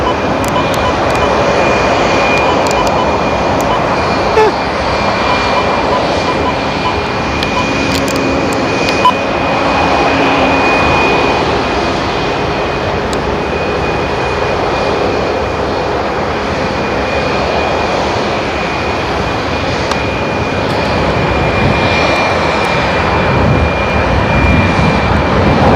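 Jet airliner engines roar continuously at Seattle-Tacoma International Airport, a loud, steady rumble with a high whine on top that holds for the whole stretch without talk.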